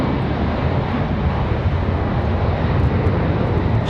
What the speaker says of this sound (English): Southwest coming down for a little departure action for 5 right